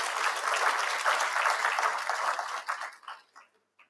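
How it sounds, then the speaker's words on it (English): Audience applause at a BERA 2026 event, a dense steady round of clapping from a crowd that thins out and trails off into a few scattered claps at the end. "I think you deserve a big hand of applause."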